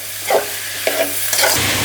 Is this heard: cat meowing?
no